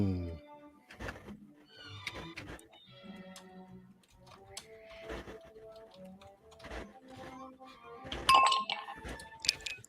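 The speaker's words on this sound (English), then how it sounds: "I love how you hear like the ice in like a whiskey glass" Ice clinking in a whiskey glass within a party video game, heard as a few bright, close clinks and taps scattered among other light game sounds, with a sharper cluster of clinks near the end.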